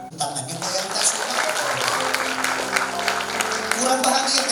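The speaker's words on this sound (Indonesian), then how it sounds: "Tepuk tangan yang keras." Guests at a church wedding blessing clap loudly and steadily, the applause rising quickly and carrying on over voices and a sustained musical tone.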